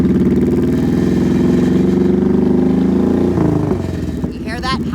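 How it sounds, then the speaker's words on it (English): A motorcycle engine revs steadily as the throttle is rolled open from a stop, its loud, near drone holding and rising in pitch before dropping off near the end, with a shift in tone at the close. "As I roll the throttle, listen for the rise in noise."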